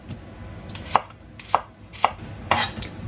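Knife chopping half an onion and vegetables on a board for a venison stir fry, four distinct close cuts spaced about half a second apart, the last a slightly longer double strike, with no talk.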